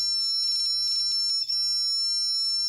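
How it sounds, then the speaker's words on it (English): A double-pole voltage tester beeps on a 230-volt mains circuit, a shrill electronic tone that holds steady and pulses in short bursts, close and alone. "So we are at full 230 volts, it's beeping"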